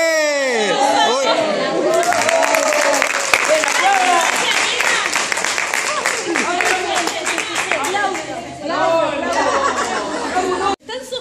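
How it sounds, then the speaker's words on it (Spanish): Audience applause rises into dense clapping mixed with chatter and cheering from a crowd, lasting several seconds and then tapering, with a voice speaking over it. "¡Un aplauso!"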